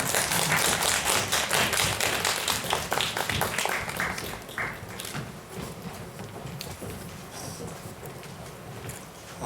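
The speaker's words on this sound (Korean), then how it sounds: "여러분 박수로 맞아주시면 더 좋지 않을까요?" Audience at a press conference applauding to welcome guests, loud dense clapping that thins and fades after about four seconds, leaving scattered claps and room noise.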